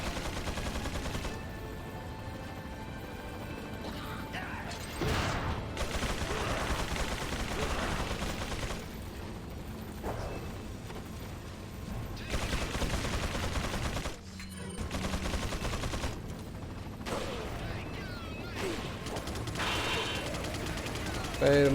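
Gunfire in the video game Resident Evil 4 comes in repeated bursts and rapid volleys across a long stretch, with dense loud blasts broken by short pauses.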